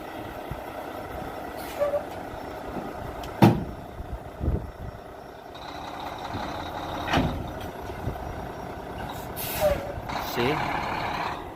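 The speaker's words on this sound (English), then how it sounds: "It's going to connect to his trailer here." Semi truck backing up to connect to its trailer, a low idling diesel rumble with a sharp clunk of the coupling, hissing air brakes and clanks, heard close up.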